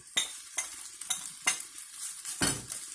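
Minced meat stirred into frying onions in a pan for meat dumplings, with a steady sizzle and four or five distinct scraping stirs spaced about half a second apart, close and clear.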